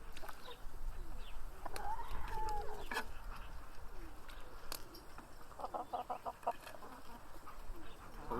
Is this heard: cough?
no